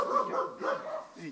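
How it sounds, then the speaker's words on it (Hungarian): A rescued dog at an animal rescue foundation gives a quick series of short, close barks and yips lasting just over a second. "Ügyes kutya."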